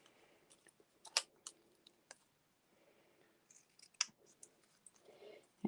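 Scissors trim paper for a stamped greeting card, giving several crisp, close snips and clicks spaced irregularly in an otherwise quiet room.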